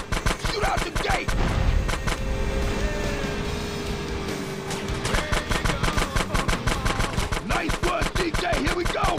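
Rapid, continuous gunfire in GTA San Andreas as a gate to the old sewer is shot out, dense repeated bursts over a rumbling vehicle engine.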